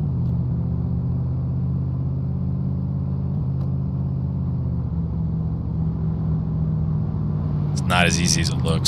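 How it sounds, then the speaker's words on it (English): A go-kart in the video game DayZ drives around a track, its engine a steady low drone throughout, with a person talking over it. "Recently, Fortune put in go-karts, and they're really fun to mess around with on this track."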